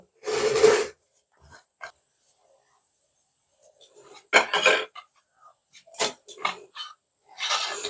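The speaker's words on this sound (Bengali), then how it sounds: "একটু একটু করে আটা দিয়ে দিয়ে মাখতে হবে" Wheat flour dough being kneaded by hand for palm-pulp luchi, heard as short, separate bursts of squishy rubbing and pressing at close range with quiet pauses between them.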